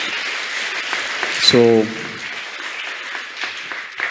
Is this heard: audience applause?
yes